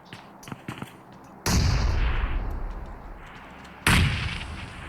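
Two loud grenade blasts in PUBG Mobile, each a sudden booming burst followed by a long rumbling decay, preceded by faint clicks and shots.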